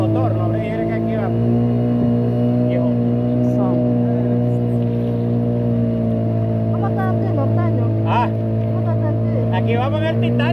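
Loud, steady drone of a motorboat engine crossing the Rio Coco at Wiwili, droning close by throughout with voices talking over it now and then.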